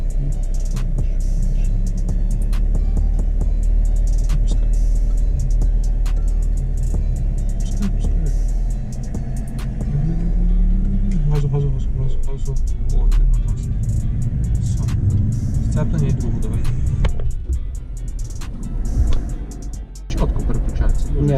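A BMW E46 engine held at raised revs gives a loud, steady low rumble that swells slightly in the middle and stays close throughout, with voices talking over it.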